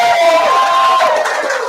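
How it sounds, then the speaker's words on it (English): Audience at a live Brew York beer-tasting event cheering and applauding together, a loud dense crowd roar with whoops and a sustained shout over the clapping, continuous and close. "can we have a big round of applause"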